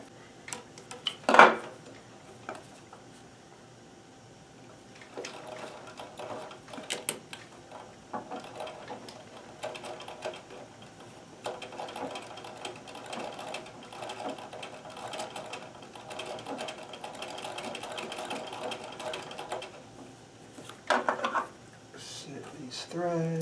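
A Singer 237 sewing machine doing free-motion embroidery runs in bursts of rapid needle clatter, with a sharp metallic clunk near the start and quieter handling between runs, close by and moderately loud.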